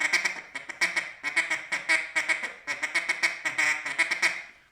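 A duck call imitating mallard drake chatter: rapid, raspy quacking bursts repeated in a quick uneven rhythm, close and fairly loud, with no voices.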